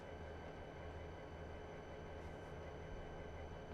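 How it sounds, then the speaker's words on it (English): A train in the Trainz 2 railway simulator produces a steady, dense rumble with droning low tones and broadband noise, constant throughout and fairly close, with no voices. "no, that's a train."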